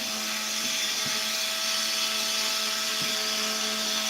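A grinder runs on a part for a Stihl 440/460 clone big-bore chainsaw, giving a steady, continuous whine with a few faint knocks and no talk.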